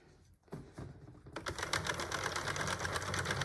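A Sentro 48 circular knitting machine cranked steadily through a row of yarn for a multicoloured scarf, giving a dense, continuous mechanical clatter of rapid ticks that starts quietly and rises to a steady near whir.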